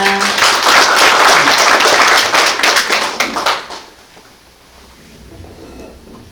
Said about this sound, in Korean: 큰 박수로 부탁드립니다